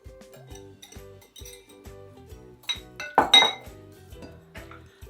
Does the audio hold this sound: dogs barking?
no